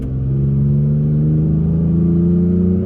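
A Toyota Tacoma with a Flowmaster dual exhaust revs up close, a loud, steady low grumble rising smoothly in pitch as the engine speeds up, with no talking.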